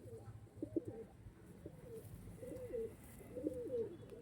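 Pigeons coo steadily at close range, their low, throaty calls coming in repeated rolling phrases over a soft background murmur.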